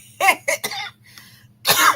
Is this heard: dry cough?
yes